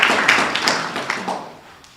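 Brief round of clapping at a school board meeting, a small group of hands tapping out a loose, close burst that trails off over two seconds.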